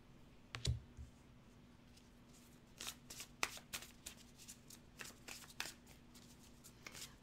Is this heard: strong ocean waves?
no